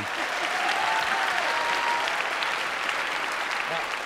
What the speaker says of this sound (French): Applaudissements pour Pierre Bellemare, mesdames, messieurs